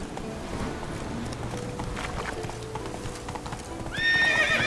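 Hoofbeats of a galloping horse in Witcher 3 drum steadily and close throughout, with a whinny rising near the end over a busy game backdrop.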